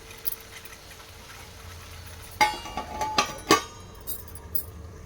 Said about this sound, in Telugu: ఒక నిమిషం మూత పెట్టి ఉడికిద్దాం